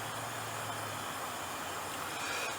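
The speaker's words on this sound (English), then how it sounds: "there's a fair amount of traffic, and you can kind of hear it from here" Distant road traffic heard from a campsite about a quarter mile off a main road, with a steady broadband rumble and a low truck engine drone, faint and continuous with no talk.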